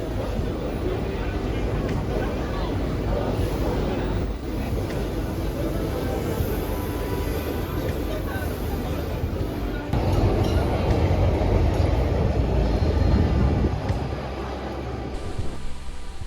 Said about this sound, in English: it's located directly under the railway track and you definitely feel the vibration